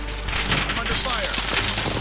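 Dense, continuous gunfire and crackling impacts from a PS4 shooter video game, with bursts layered over one another for the whole stretch; faint voices may sit beneath the barrage.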